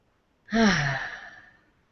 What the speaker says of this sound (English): Yawns are good.